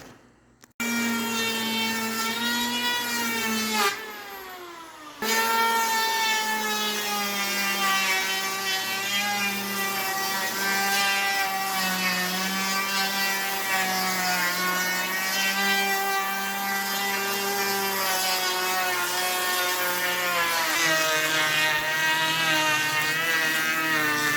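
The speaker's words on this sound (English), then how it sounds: "I'm just gonna go ahead and plane this edge down" A power planer shaves down the edge of a board for the new floor of an RV slide-out, running as a loud, steady high-pitched whine with a brief pause near the start, close and continuous with no talk.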